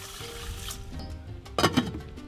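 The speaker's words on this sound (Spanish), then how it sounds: "Igual de agua, miren, ¿no? La misma medida, pero de agua." Water is poured into a rice cooker holding about three quarters of a kilo of rice, a soft trickling pour that ends in a short burst of louder splashing and gurgling near the end.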